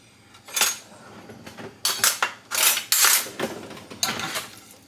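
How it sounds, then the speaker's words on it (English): Pork kabob pieces tossed with olive oil in a bowl, a utensil clanking and scraping against the dish in loud irregular bursts, close up with no voices. "just mix that in so the oil gets like all over every piece"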